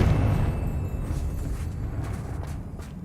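A Confringo fire spell explodes in Hogwarts Legacy, a deep rumbling blast that starts loud and rolls on as a sustained low roar, slowly easing off without any voices.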